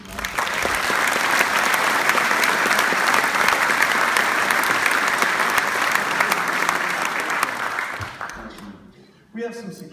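Audience at a congressional debate at Hutchinson Community College breaks into sustained applause for about eight seconds, loud and dense before fading out, with a voice briefly at the end.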